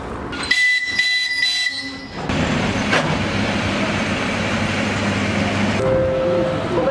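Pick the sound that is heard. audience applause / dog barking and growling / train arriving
train arriving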